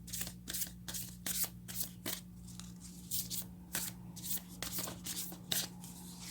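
Rapid riffle-shuffling of a Moonology oracle card deck up close, with quick papery bursts repeating in an irregular rhythm over a faint steady hum, no voices.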